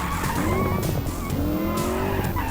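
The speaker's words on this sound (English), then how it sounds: "Full throttle is just too much wheel spin." Car tires squeal and the wheels spin under full throttle in a racing video game, with a continuous loud screech and a wavering engine tone and no talk.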